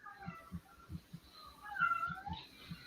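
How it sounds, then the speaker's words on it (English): Domestic cats meowing, a drawn-out rising and falling meow from a nearby cat over a faint, regular low thumping pulse, fairly quiet overall with no speech. "Oh, I hear cats."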